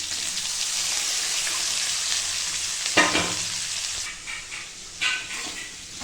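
Onions fry in a pan with clove and cardamom, a steady, loud, close sizzling hiss throughout, broken by a couple of soft stirring scrapes near the end, with no voices.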